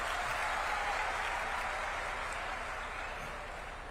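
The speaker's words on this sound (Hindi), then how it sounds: "आप सबकी तरफ से एक तालियां चाहूंगा मैं मुख्यमंत्री जी के लिए" Audience applause for the Chief Minister of Madhya Pradesh at a public event, a dense, steady wash of clapping that holds loud before easing slightly toward the end, with no voices standing out.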